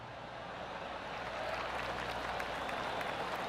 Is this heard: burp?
no